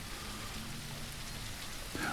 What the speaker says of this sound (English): the rain's coming down, people